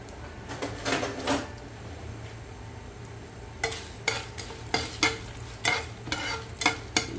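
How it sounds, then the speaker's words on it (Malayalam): Dried red chillies and coriander seeds stirred in a little hot oil, with a faint sizzle under bursts of scraping and rattling from the spoon against the pan, coming in quick irregular strokes, close and alone. "ആദ്യം ഈ വറ്റൽ മുളകും ഈ മല്ലിയും ആദ്യം ചൂടാക്കാം"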